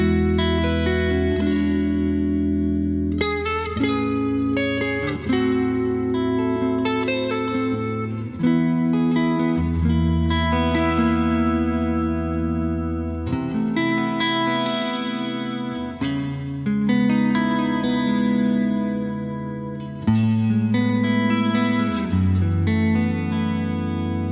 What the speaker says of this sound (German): Was wir noch in dem Amp drin haben, ist ein eingebauter Hall.